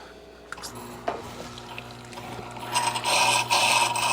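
A heavily out-of-round grind stone spins up again during truing, a steady mechanical whir with faint ticking that swells into a loud, bright grinding hiss over the last second and a half.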